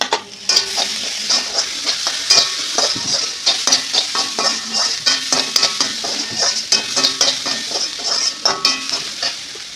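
Onions sizzling in a pan while a spatula stirs and scrapes them in quick repeated strokes, loud and close, clinking against the metal in an uneven rhythm, with no talk.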